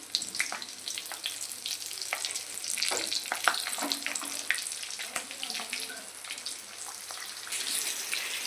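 Green chilies dropped into hot oil in a pan set off a busy, crackling sizzle with sharp spattering pops that rise and fall throughout, fairly close and loud.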